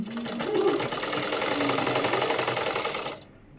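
A domestic sewing machine stitches fabric while finishing a princess-cut garment, its fast, steady whirring run lasting about three seconds at close range before stopping abruptly.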